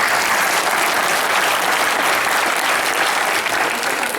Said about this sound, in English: I'd like to applaud the courage and determination of Lori and John